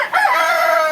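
A tiger-breed rooster at a chicken farm in Bakshiganj, Jamalpur, crows once, loud and close, with a sustained strident cock-a-doodle call and no other sounds.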